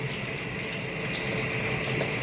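Hot oil splattering while food fries in a pan without a splatter screen, a dense, steady hiss and crackle up close, continuous with no talk.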